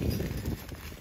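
Hooves of a three-horse hitch thud and clop in a rapid, irregular cluster while the team pulls a plow across a field, close and moderately loud over a brief stretch.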